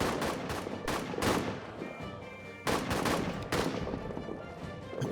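Rifle and machine-gun fire crack in a World War One trench warfare video game, bursts of sharp shots coming in uneven clusters with pauses between volleys, fairly loud and close.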